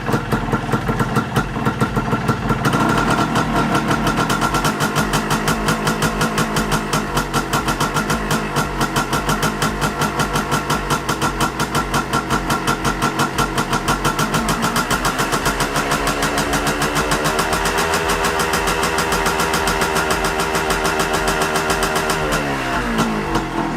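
A Yamaha DT125 motorcycle engine idles steadily, then is revved up to about 3,000 RPM and held, the pitch rising and falling back near the end; loud, close and continuous, with no talking.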